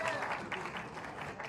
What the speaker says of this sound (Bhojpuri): जोरदार ताली से स्वागत करी पवन भैया के